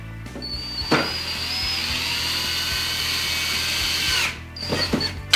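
A power drill drives screws into a pocket door track, one sustained whirring run of a few seconds, close and clear, bracketed by brief clicks and handling knocks.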